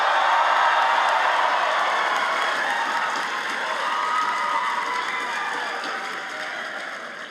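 Graduates cheer and applaud at a SAIT winter convocation ceremony, a loud sustained roar of clapping and whoops from a large crowd that eases slightly toward the end.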